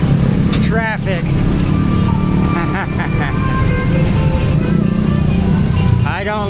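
Busy road traffic in Indonesia roars close by, with cars and motorcycles passing and engines rising and falling, while horns or revving whines cut through the loud continuous rumble.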